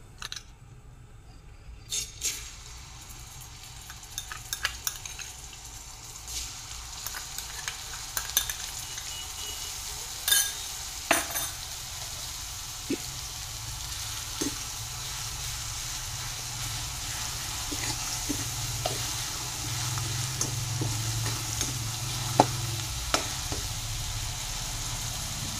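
Finely ground green chillies fry in a pan with intermittent clinks of a stirring spoon against the metal over a constant sizzle, close by and without talk, while a fasting-day bhagar dhirde batter is prepared.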